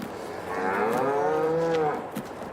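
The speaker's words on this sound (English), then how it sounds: "There's my cow. She's out here eating her hay." A cow eating hay on a farm lets out one long, loud, drawn-out moo close by, with no talk over it.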